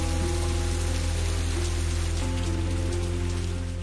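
Steady, dense rain pours down without a break, an even wash of drops hitting surfaces in northern India, loud and close with no voices.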